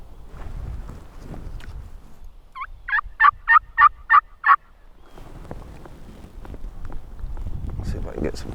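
Wild turkeys gobble on a public-land hillside, with one burst of six rapid, rattling gobble pulses carrying clearly from a moderate distance over soft rustling and background noise.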